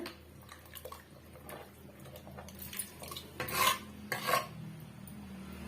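Fried dried fish (karuvadu) stirred into a curry in a pan, with scraping and clinking of a spoon against the metal pan, a few louder scrapes toward the end, over a low steady simmer; no talking.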